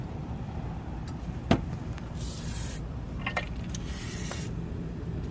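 Lubricant sprays from an aerosol can onto a Ford Focus control arm and end link part in a few short hissing bursts over a steady garage background hum, with one sharp clank.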